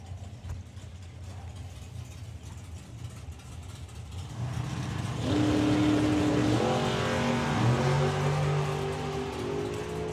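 Drag race cars launch and accelerate down the strip at the STP Summer Nationals 2023, a rough low engine drone swelling into a loud, rising roar with climbing tones partway through, no talk over it.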